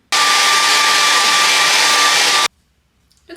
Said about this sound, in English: so I need to get the hairdryer on it.